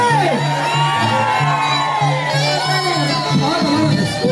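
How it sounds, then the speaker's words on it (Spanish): A crowd of women at a family gathering yells and whoops loudly together in a sustained burst of cheering, with excited voices overlapping throughout. "¡Las mujeres, un grito fuerte!"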